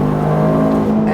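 A Toyota GR Corolla engine revving hard toward redline, heard from inside: a loud, steady, tonal engine drone that climbs and holds throughout.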